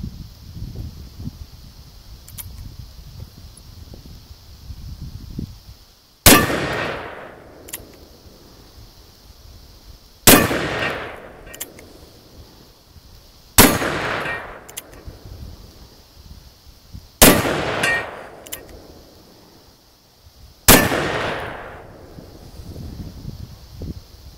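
Five sharp, loud gunshots from an 1881 Colt Frontier Six Shooter revolver, fired alone at spaced intervals of about three to four seconds, each crack trailing into a short outdoor echo.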